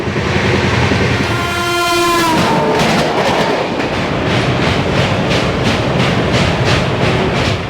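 A train horn blares loudly in a long sustained blast, then wheels clack rhythmically on the rails as the Farakka Express rolls past close by.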